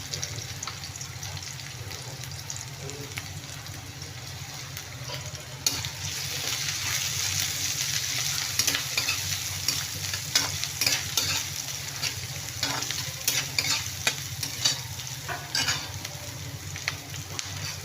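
Onion frying in a pan for a fenugreek and moong dal dish, a continuous sizzle with repeated spatula scrapes and taps against the pan, growing busier partway through, no talking.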